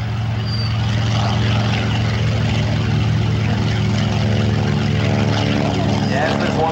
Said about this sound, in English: That's an R2600 radial engine cranking up right now.